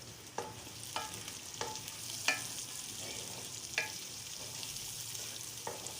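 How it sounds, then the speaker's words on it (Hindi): Bell peppers and carrots frying in a pan with a steady soft sizzle, punctuated by occasional scraping stirs, no talking. "हम इसमें ऐड करेंगे शिमला मिर्च और साथ ही गाजरें, और इनको अच्छे से फ्राई कर देंगे"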